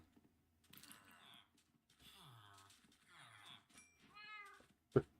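A Minecraft cat gives several short, close meows in a row across quiet gaps, and a sharp click or pop comes at the very end.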